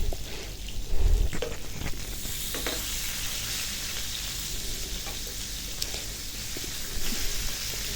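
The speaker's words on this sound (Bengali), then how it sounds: "মাছ কেটে এখন ভেজে রান্না করবো না আর কি, শুধু ভাজাই খাবো এগুলো" Pieces of cut fish fry in hot oil in a pan with a steady, close sizzle and occasional louder spatters, no talk.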